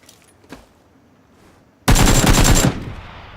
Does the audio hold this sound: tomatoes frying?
no